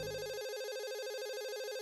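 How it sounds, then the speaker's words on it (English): Mobile phone ringing in the Katawa Shoujo visual novel game, a steady electronic ringtone warbling continuously at moderate volume with no other sounds. "My mobile phone starts to ring, cutting my thinking short."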